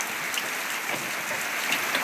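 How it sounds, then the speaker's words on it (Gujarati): Heavy storm rain falls in a steady, dense wash of hiss, a little softer, with faint individual drop splashes and no voices. "ગાય જો જબરજસ્ત વરસાદ પડી ગયો છે"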